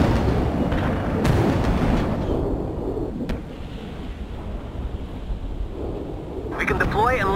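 Heavy artillery barrage in the video game World in Conflict, deep rolling booms and rumbling blasts layered into a continuous roar, with radio-style voices talking over the bombardment.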